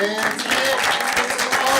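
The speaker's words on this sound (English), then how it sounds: "Miriam, I think we need to give you one more round of applause." Steady clapping from a crowd at a school district board meeting, continuous and fairly loud throughout, with a voice audible in the mix.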